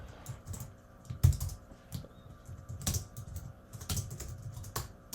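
Code being typed on a computer keyboard, with irregular clusters of close, crisp key clicks and a few sharper, heavier strikes, alone without talk.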